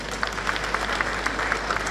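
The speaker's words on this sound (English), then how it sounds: "Can we clap for ourselves?" An audience at a political rally claps, a brief steady patter of many hands close by and moderately loud.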